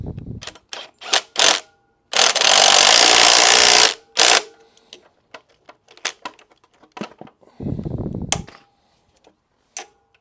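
Bursts of a power tool tightening a part on a Jazzy Evo 614HD mobility scooter, one long whirring run of about two seconds among shorter clicks and knocks, close and loud with no talk.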